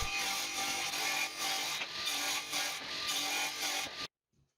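Strips of multi-layered plywood being cut about 50 mm wide: a steady, loud, close rasping cutting noise that runs continuously for about four seconds, then stops abruptly.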